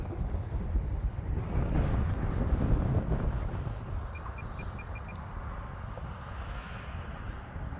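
Strong gusting wind buffets the microphone at an RC plane flying field, a loud broadband roar that swells in the first few seconds and then eases slightly but persists throughout, with no voices.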